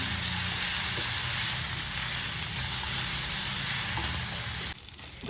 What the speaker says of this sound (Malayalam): ഇതും കൂടി ഇട്ട് കൊടുക്കാം. നല്ലോണം ഇളക്കി കൊടുക്കാം.